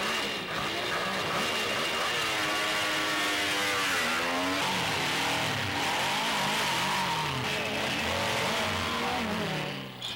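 BMW 900cc racing motorcycle engine at the 1975 Tour de France Motos, revving steadily and loudly throughout with rising and falling pitch sweeps as it accelerates and shifts, no talk.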